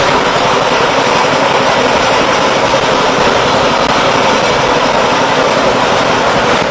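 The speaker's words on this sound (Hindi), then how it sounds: "आप देखेंगे कि रीपर भी ऑन हो जाएगा।" The engine of a 4GL 120 A1 reaper runs steadily at close range, a loud, constant mechanical drone with a low rumble and broad roar that stays unchanged throughout.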